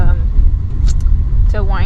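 Car interior driving noise: a steady low road rumble and engine drone fills the cabin throughout, with a brief voice or whine sound near the end.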